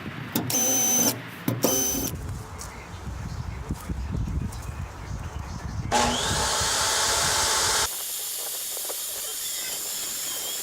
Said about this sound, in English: we're gonna take the drill here, we're gonna put in a couple drainage holes